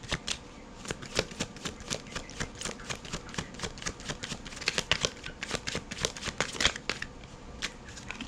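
Tarot cards shuffled by hand during a reading, a steady run of close, rapid riffling flicks and soft slaps lasting several seconds, with no voices.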